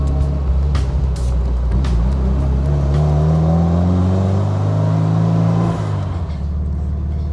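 A Fiat 124 Spider engine pulls hard while driving, its note rising steadily through the revs over loud road and wind noise, then dropping off near the end as the throttle lifts.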